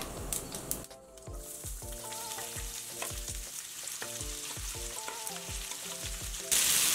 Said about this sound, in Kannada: ಮೀಡಿಯಂ ಫ್ಲೇಮ್ ಇಟ್ಕೊಂಡು ಈರುಳ್ಳಿ ಬಾಡಿಸ್ಕೊಳ್ಳೋಣ ಚೆನ್ನಾಗಿ